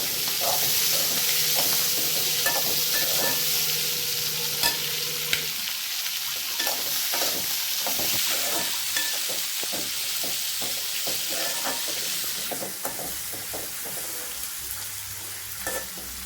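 Onions and tomatoes sautéing in a pan for chana masala, a steady close sizzle with repeated scraping stirs throughout, a low hum early on, no talking.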